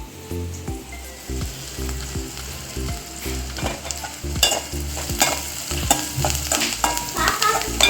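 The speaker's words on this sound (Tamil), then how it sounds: "கடுகு வெடிச்சிட்டு வெங்காயத்தை போட்டு கொஞ்சம் நேரம் மாறுற வரைக்கும் வதக்கணும்." Onions sauté in hot oil with popped mustard seeds and curry leaves for a Tirunelveli-style masiyal side dish, a steady close sizzle with repeated scraping stirs and small pops, and no voices.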